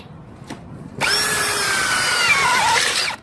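After a brief quiet tap, a power drill starts abruptly, re-drilling an existing pilot hole during a door replacement, and runs for about two seconds, its pitch sagging as it bores through material.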